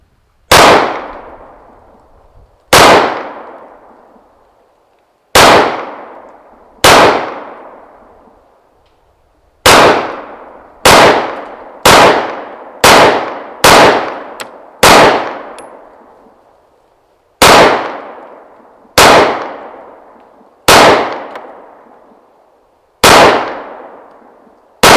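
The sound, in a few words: gunshots hitting a metal zombie target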